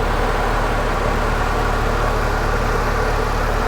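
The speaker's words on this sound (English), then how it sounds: "Has a nice steady idle, runs and drives really great." A 2005 Pontiac GTO engine idles with a steady, low, continuous rumble, close and even throughout, with no talking.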